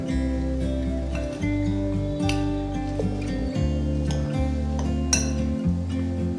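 A spoon clinks and scrapes against a bowl while a cheese and corn mixture is stirred together, repeated irregular taps over a low steady hum, close and fairly loud with no talking.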